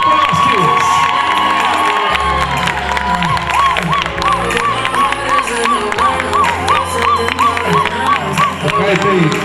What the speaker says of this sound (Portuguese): Por favor, aplausos